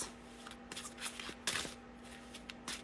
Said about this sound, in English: let's give the cards a little shuffle, shall we?